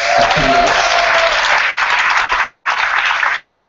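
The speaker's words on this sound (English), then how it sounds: "I don't even have to ask for a round of applause" An audience breaks into applause, a dense burst of clapping that wavers briefly and then stops abruptly after a few seconds.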